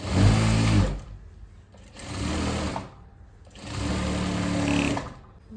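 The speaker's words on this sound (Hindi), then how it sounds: "फिर एक बार इसके ऊपर सीधी सिलाई चलानी है कि फटे नहीं जल्दी से।" A sewing machine runs straight stitching along a salwar seam in three separate bursts, each about a second long with short pauses between, close and fairly loud.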